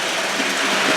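A brief, steady mechanical whir of an O-gauge model train starting to run, continuous and fairly loud with no voices.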